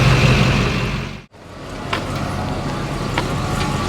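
A 1956 Chevrolet truck driving on the road, its engine rumbling loudly and close inside the cab, with a brief drop in sound as if shifting gears before the rough, steady drone resumes.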